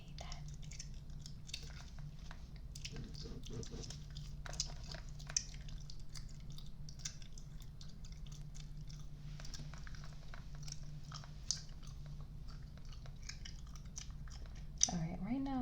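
Gum is chewed close to the microphone in a quiet room, with a steady stream of soft, wet clicks and smacks and a few sharper snaps. A soft voice murmurs faintly at times.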